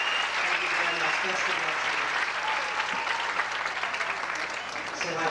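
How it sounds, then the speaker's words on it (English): Audience applause for a married couple at a 1993 celebration, a dense, steady wash of clapping that carries through the whole stretch while a voice speaks briefly over it. "Give them a big round of applause."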